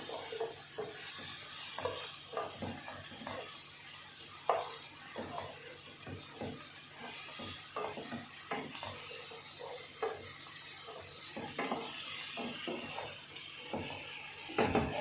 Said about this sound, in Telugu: అల్లం వెల్లుల్లి పేస్ట్ పచ్చివాసన పోయేదాకా ఫ్రై చేద్దాం